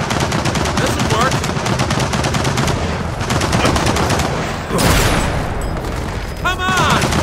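A turret machine gun hammering away in Gears of War 4 campaign combat, a dense, loud, continuous rattle of rapid fire with booming impacts and shouted voices layered over it.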